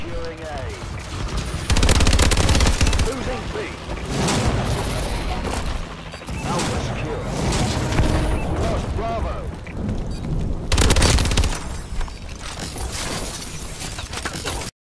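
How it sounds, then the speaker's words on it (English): Bacon and Eggs XMG machine gun in Call of Duty firing in heavy, sustained bursts, loud and close, with destructive booming impacts and brief pauses between volleys; no voices. "The bacon and eggs is a heavily damaging, destructive XMG."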